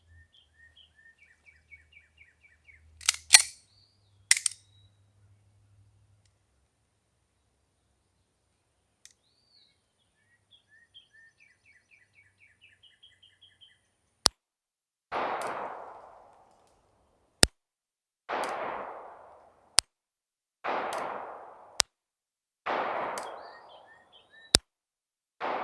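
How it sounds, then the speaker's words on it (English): A Girsan Regard Gen 4 9mm pistol fires several rounds offhand at an outdoor target; sharp, loud single shots spaced about a second or two apart, each followed by a decaying echo, after a few quieter clicks and handling sounds. "We're going to fire a few rounds at the target on the right, just offhand, unsupported here,"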